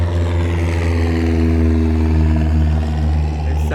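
A small plane drones steadily overhead near a paddler on the water, its propeller hum loud and close, with a low harmonic tone that holds through the whole stretch and a voice speaking faintly underneath.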